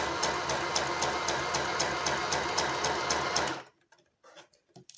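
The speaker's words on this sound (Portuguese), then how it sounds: "a gente vai costurando e ajeitando" A sewing machine stitches fabric for a handmade Peppa Pig project, running in a steady loud close-up whir for about three and a half seconds, then stopping abruptly, leaving only faint handling noises.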